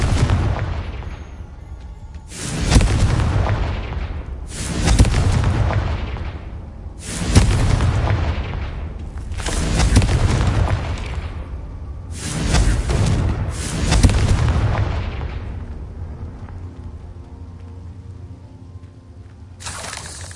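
Confringo blasting spells from Hogwarts Legacy go off as a string of loud, booming explosions, about six or seven fiery blasts with crackling debris spaced a couple of seconds apart, each decaying into rumble, then a quieter tail.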